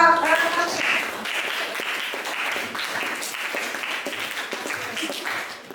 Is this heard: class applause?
yes